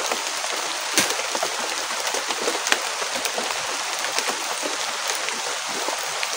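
Heavy rain drums steadily on surfaces, a dense close hiss peppered with scattered louder drops, with no voices over it.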